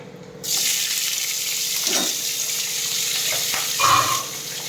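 Carrots fry in a little oil in a pan, giving a steady bright sizzle that starts abruptly and continues, with a few stirring scrapes and a brief louder hiss near the end.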